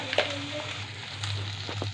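A soft sizzle of rice frying in ghee with faint scraping from stirring, steady and close, no voices.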